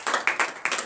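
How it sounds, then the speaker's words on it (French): Church congregation clapping in acclamation during a morning prayer service, a few quick bursts of close clapping in a brief, rhythmic run. "Donnez l'acclamation à Jésus"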